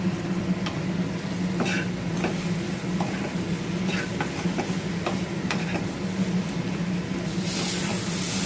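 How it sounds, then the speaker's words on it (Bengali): Spices with salt and turmeric sautéing in a pan for a rohu fish curry, a steady close sizzle with scattered scraping stir strokes throughout. "মশলা কষানো আমার হয়ে গেছে।"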